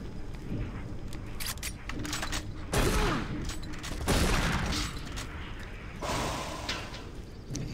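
Bursts of gunfire in Doom 3: Resurrection of Evil crackle in several dense rapid volleys, loud and close, with two heavier blasts in the middle, and faint game noise between the bursts.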